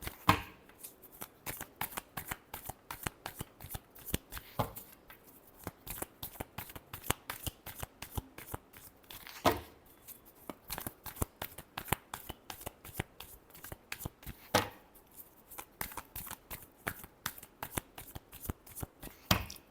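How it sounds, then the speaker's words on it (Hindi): Tarot cards being shuffled by hand in a quick, steady riffle of crisp papery flicks that repeat close up throughout, with a few louder slaps of the deck and no talking. "Last shuffle."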